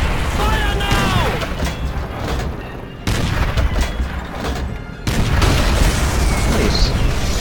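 Heavy tank cannon blasts and rumbling explosions from the video game Call of Duty, loud booms arriving in bursts roughly every two seconds amid constant battle noise, with a voice talking over parts of it.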